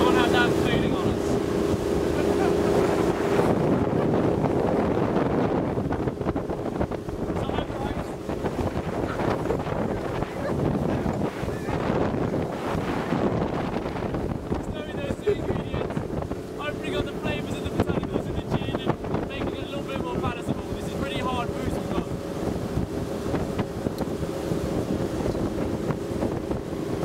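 A fast motorboat roars steadily, its engine drone blending with heavy wind rushing across the microphone throughout.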